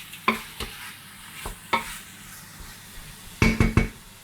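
Food sautéing in a pan, a soft sizzle under a few sharp stirring scrapes and clinks of a utensil, spaced out then a quick burst of three near the end, close and fairly quiet.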